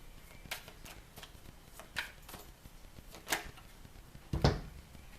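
Tarot cards are shuffled quietly up close, soft rhythmic riffling and tapping with a few sharper slaps of the deck, no talking over it.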